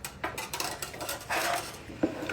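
A spoon clinks and scrapes against a bowl while strawberry chocolate chip cookie batter is mixed by hand, with short irregular taps and swishes, close and fairly quiet.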